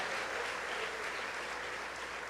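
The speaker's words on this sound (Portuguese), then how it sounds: "você pode aplaudir ao Senhor por isso" A church congregation applauds in a dense, steady wash of clapping that holds evenly throughout, with no voices over it.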